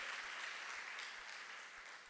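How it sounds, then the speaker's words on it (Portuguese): A church congregation applauds during a Portuguese-language worship service, a steady wash of distant clapping that holds for about two seconds and fades slightly toward the end. "aplauda mais forte ao Senhor"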